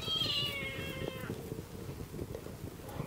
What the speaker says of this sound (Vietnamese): Đây cái con mèo đang ngồi trông.